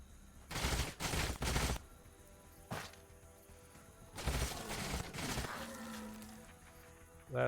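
Gunfire in the strategy game Age of Wonders Planetfall as a unit is shot: several loud sharp bursts of shots near the start, a single crack, then another cluster of bursts, with game effects trailing afterward.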